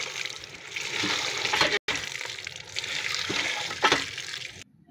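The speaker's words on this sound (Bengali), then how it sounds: "এগুলো আমি পরিষ্কার করে ধুয়ে নেব" Freshly picked leafy greens are washed under running water, a steady splashing and trickling stream with small shifts as the leaves are handled, while a voice talks now and then.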